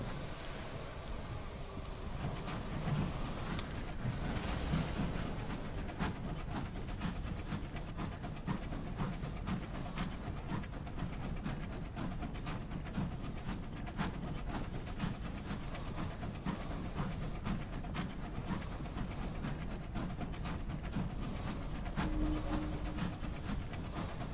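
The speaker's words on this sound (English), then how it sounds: "This new train makes a more powerful chugging sound." A steam locomotive chugs steadily in the airborne train game Sunless Skies, a powerful, even rhythm of heavy pulses with a hissing wash over a low rumble, continuous and close throughout with no talking.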